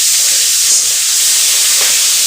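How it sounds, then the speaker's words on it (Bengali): Sliced onion and slit green chilies sizzling in hot oil for a fish curry, a loud continuous close-up hiss with no break. "এই তেলেই আমি পেঁয়াজ ফোড়ন, কাঁচা লঙ্কার চেরাটা তেলে দিয়ে দেব ঝাল হওয়ার জন্য"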